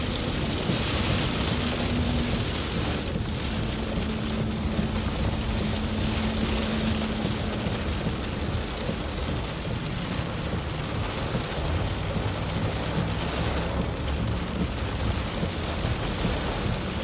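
Heavy rain pounds steadily and loudly throughout a tornado-warned storm chase near Fort Smith, Arkansas, a dense broadband roar with wind mixed in and no breaks.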